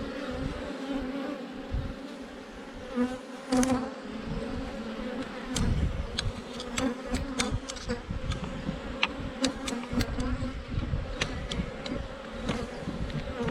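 Honeybees buzz loudly and continuously around an open hive during a full inspection, a dense close drone with individual bees zipping past near the listener.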